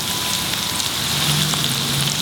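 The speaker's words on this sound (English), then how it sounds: "I am going to fry this koftas in 2 batches." Steady, dense sizzling of mutton koftas frying in hot oil in a pan, a continuous crackling hiss with no pauses and no voices.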